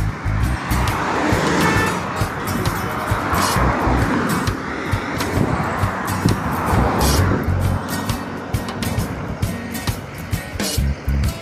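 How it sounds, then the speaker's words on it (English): A small flatbed tow truck drives along hauling two impounded vehicles on its bed, producing a steady, loud rumble of engine and road noise with rattling and a whooshing wind roar throughout. "Flatbed in operation, you know. Two motor vehicles."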